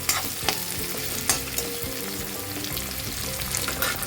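Onions sauté in a hot pan with a loud, continuous sizzle. Repeated scraping strokes from stirring punctuate the frying up close.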